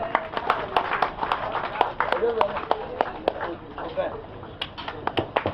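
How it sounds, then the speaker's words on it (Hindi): At a Diva Scrap Association meeting, a few people clap in scattered, uneven bursts while voices talk over them. "जोरदार ताली इस्तेमाल कीजिए।"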